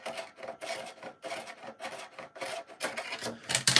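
A model aircraft part is trimmed at its small holes, making repeated close rasping strokes in an even rhythm, each scrape short and gritty, with no talk.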